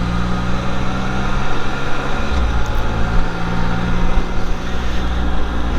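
A Can-Am Spyder three-wheeled motorcycle cruises through a neighborhood with a steady, loud engine drone and wind rush, its low rumble holding constant throughout with no voices.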